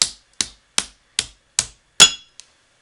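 Hammer striking the steel tang of a neck knife on an anvil while bending it, six sharp, ringing blows in an even, unhurried rhythm, close and loud, followed by a faint small tap.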